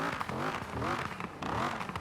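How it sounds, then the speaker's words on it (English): In Forza Horizon 4, a Camaro iROC-Z fitted with a maxed-out Viper V10 climbs and dips through several quick rev sweeps, loud and close, with a gravelly, uneven roar. "I was right, it is the Viper engine"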